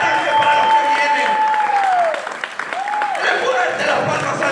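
A church congregation claps for the Lord, a continuous wash of clapping throughout while a preacher's voice rises over it in a sustained tone, dips briefly, then resumes.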